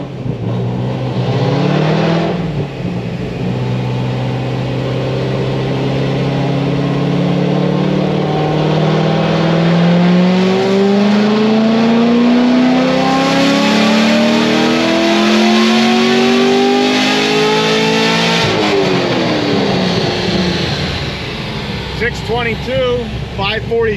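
An LS7 V8 fitted with stage 4 heads and cam on a dyno pull, a loud, close engine roar climbing steadily in pitch for nearly twenty seconds before dropping off, with a voice heard under the noise.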